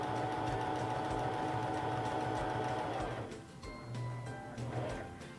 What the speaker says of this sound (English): begin sewing your seam